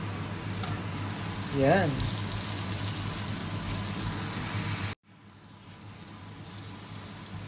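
White onions sizzle in a hot pan while cooking chicken curry, a steady close frying hiss that carries on for several seconds before cutting off abruptly, then resuming faintly, with someone speaking over it.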